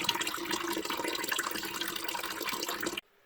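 Water draining from a whole house water filter, a steady close rushing and splashing flow that cuts off abruptly near the end.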